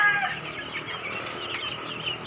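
Young chicks peeping in short high chirps with soft clucking on a backyard poultry farm, close and continuous over a short stretch.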